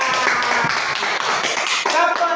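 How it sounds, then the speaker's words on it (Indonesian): A group of people clap their hands together in a classroom, a dense, steady patter of close claps running throughout without a break. "Tepuk tangan."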